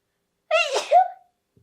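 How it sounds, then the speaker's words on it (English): A single sneeze from one person, heard alone and close: a sharp intake followed by a bright, forceful burst that trails off in just over half a second, with silence before and after. "Oh my gosh, I have to sneeze."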